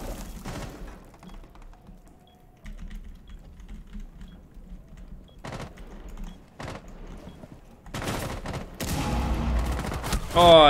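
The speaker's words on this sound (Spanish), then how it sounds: "me hace prefire disparando" Brief gunshot bursts in Rainbow Six Siege (Phantom Sight season), a few sharp cracks scattered through a quiet stretch, followed by a louder cluster of shots near the end, with faint speech and keyboard clatter underneath.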